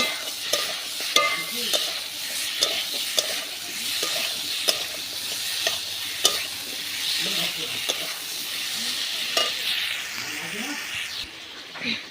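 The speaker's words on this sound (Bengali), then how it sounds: "এবারে ভালো করে কষিয়ে নেব" Ginger-cumin paste with turmeric for a fish curry sautéing in a pan, giving a steady sizzle and hiss broken by regular scraping strokes of a spatula, close and moderately loud.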